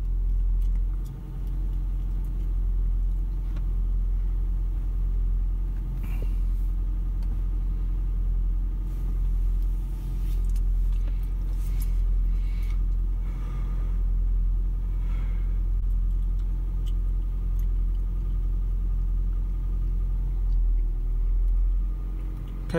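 Toyota Prius engine idling during a diagnostic scan, a steady low rumble that holds close and even for the whole stretch, with faint clicks and handling noises on top.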